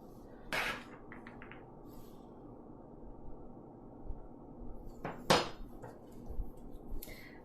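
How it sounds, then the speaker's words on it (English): A spoon lightly scoops gummy bears for gummy-bear embed cold-process soap, giving two short, crisp clinks several seconds apart over a quiet, low background. "So lightly spooning some Gummy Bears."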